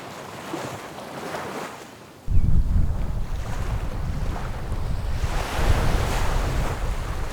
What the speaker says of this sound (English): enjoying the rhythmic sound of the waves in the background.